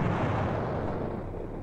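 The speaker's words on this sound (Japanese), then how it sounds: "今の爆発は地下倉庫の方角だ" An explosion in the video game Sakura Taisen 2 booms out as a loud, broad rumbling blast that slowly fades over a second or so.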